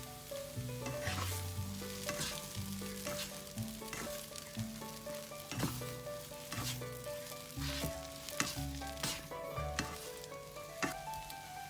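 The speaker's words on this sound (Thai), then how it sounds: "เราใส่ ต้นหอมใบขึ้นช่ายได้เลยค่ะ ผัดสองสามทีแล้วก็ปิดไฟเลยนะคะ" Glass noodles with dried shrimp and pork belly sizzle and clatter as they are stir-fried in a hot pan, with steady frying hiss and rhythmic utensil scrapes throughout, while soft background music plays underneath.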